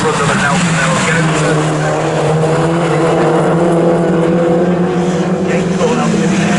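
Mini JCW race cars lapping Snetterton circuit during a Mini Challenge race, a steady loud engine drone holding throughout with a commentator talking over it.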